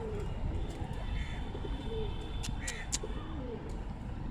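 Pigeons coo softly several times over steady background noise, with a few sharp chirps from other birds mixed in.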